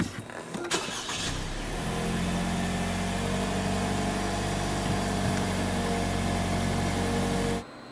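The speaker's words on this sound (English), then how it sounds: "only now you will be able to start the engine" A Lexus NX 300 engine cranks briefly and catches, then settles into a steady, low idle rumble that continues evenly before abruptly cutting off.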